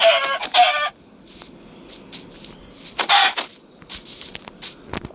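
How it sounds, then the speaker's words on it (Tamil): Chicken clucks from the Minecraft video game, a loud burst of squawking clucks at the start and another short burst around the middle, with faint game sounds between and no talk. "இங்கே பாருங்க சிக்கன் கூட எப்படி இருக்கு."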